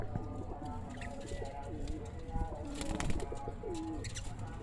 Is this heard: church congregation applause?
no